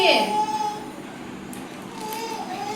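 A baby's thin, wavering cry rises at the start and returns faintly later, mixed with nearby talking.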